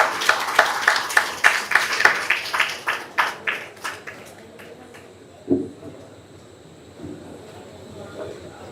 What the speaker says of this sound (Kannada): ತಾವೆಲ್ಲರೂ ಚಪ್ಪಾಳೆಯನ್ನು ಹೊಡೆದು ಆ ಹಿರಿಯ ಕಲಾವಿದರಿಗೆ ಗೌರವವನ್ನು ಸೂಚಿಸಬೇಕಾಗಿ ಕೇಳಿಕೊಳ್ತಾ ಇದ್ದೇನೆ